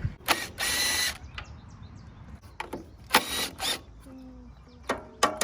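Ratchet wrench loosening the bolts on a free lawn mower during a repair, heard as several bursts of quick clicking separated by pauses, close and fairly loud, with no talk.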